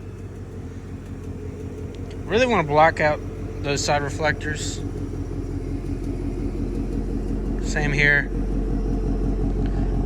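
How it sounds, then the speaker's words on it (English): A 2024 Ford Mustang GT Premium V8 without active exhaust, started from cold, settles into a steady low rumble that continues throughout, with people talking briefly over it. "that's how you start the car"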